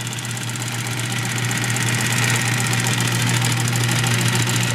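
A clutch motor drives a Pfaff 145-H4 compound feed walking foot sewing machine, giving a steady, loud mechanical hum with a constant low drone and busy rattling overtones that hold unchanged throughout, with no voices.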